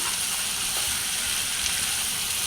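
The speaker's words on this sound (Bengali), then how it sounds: "বরবটিগুলোকেও আমি একটু কষাবো" Long beans sauté in a pan for a silver carp fish curry, giving a steady, close hiss and sizzle of frying with no talking.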